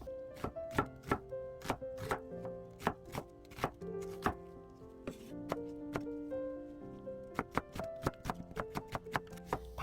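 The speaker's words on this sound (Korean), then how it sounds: "먼저 양파를 굵게 채 썰어주고요" A knife slices an onion into thick strips for japchae, making crisp, close knocks on a cutting board in quick rhythmic runs with short pauses between.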